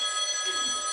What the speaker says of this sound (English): And unfortunately, that's my phone.